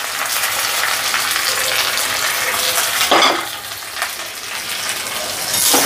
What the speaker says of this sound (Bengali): আলুগুলো দেওয়ার পর এবার নেড়ে নেব